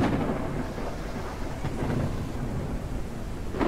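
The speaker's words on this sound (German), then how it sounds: "Das blitzt und donnert." A heavy thunderstorm rolls through the video game Forever Skies, with deep rumbling thunder over dense, steady rain, loud and continuous without any voices.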